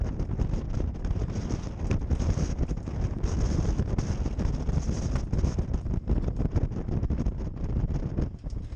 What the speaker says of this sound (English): The wind's still howling right here.